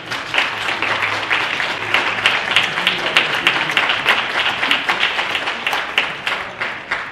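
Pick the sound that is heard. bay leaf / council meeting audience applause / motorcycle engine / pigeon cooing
council meeting audience applause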